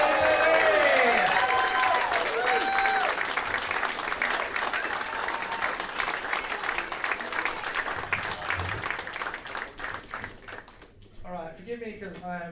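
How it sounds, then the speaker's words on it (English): Audience applause at a closing ceremony: sustained clapping from a large crowd, loud at first and gradually thinning, with whistles and cheers mixed in before a voice begins speaking near the end. "There's going to be a lot more clapping."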